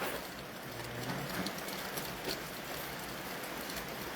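Rain falls as a steady, even hiss with occasional soft drops, heard alone at moderate distance without any voices.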